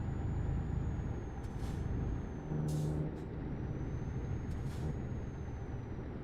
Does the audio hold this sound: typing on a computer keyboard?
no